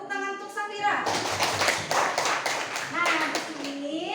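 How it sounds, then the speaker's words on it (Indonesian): A class claps for a student in a school lesson, a burst of quick, close, uneven hand claps after a voice, with speech resuming near the end. "Tepuk tangan untuk Safira."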